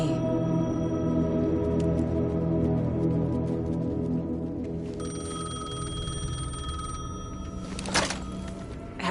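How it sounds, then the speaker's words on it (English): A payphone rings in the video game Alan Wake 2, a bright repeating bell over a low droning ambience, with a brief thump near the end. "Payphone was ringing."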